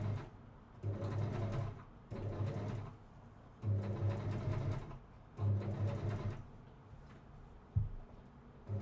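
A sewing machine stitches a garment in short runs, with four separate bursts of quiet, rapid mechanical whirring separated by pauses, ending in a brief clack.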